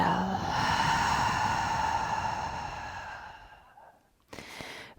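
During a yoga session, a long, deep exhaling breath flows out steadily for about four seconds and fades, followed by a brief, softer breath sound, close and intimate with no talking.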